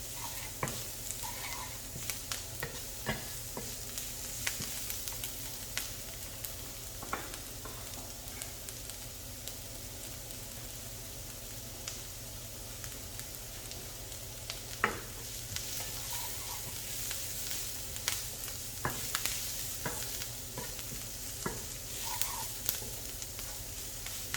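Garlic and chopped mushrooms fry in a pan, a soft continuous sizzle with frequent clicks and scrapes of stirring, fairly faint and steady over a long stretch.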